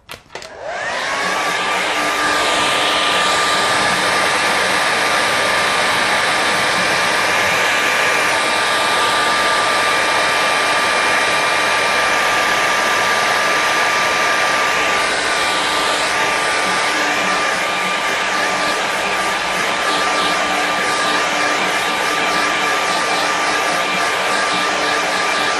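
A hair dryer blows steadily on a watercolour painting, a loud continuous whir with a high whine that starts abruptly and runs unbroken at close range, the airflow shifting slightly as it moves over the paper.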